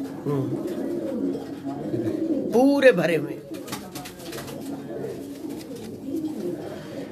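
Feather-footed breeder pigeons give a brief burst of cooing, fairly close, partly under a voice, with room noise and scattered rustles around it.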